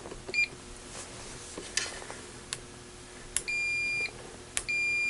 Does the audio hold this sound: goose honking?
no